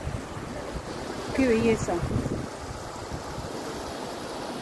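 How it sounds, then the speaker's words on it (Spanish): A river flows out at its mouth in Ayacucho, Peru, as a steady broad rush of water and wind. Someone speaks briefly over it. "Mire qué hermoso, cómo desemboca el río."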